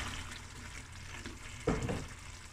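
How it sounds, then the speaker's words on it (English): Butter beans drop into a tomato and marrow bone stew with a brief splash and stir, against a steady bubbling simmer close by. "Now I'm going to add the butter beans"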